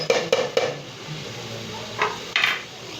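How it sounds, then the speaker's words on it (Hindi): Fish pieces going into a pan of cooked-down tomato masala for a fish curry, with a few sharp clinks of utensil on metal, light scraping and a couple of fuller clatters later, close up and with no talking. "अब इसमें मैंने फिश डाली है। ये देखिए, फिश डाल के थोड़ा सा भूनना है।"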